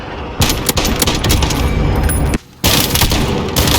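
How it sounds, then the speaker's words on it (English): Precision airstrike explosions in a video game, a dense, loud barrage of booms and rapid blasts rolling almost continuously, broken by one short gap before the pounding resumes. "Enemy precision airstrike. Take cover."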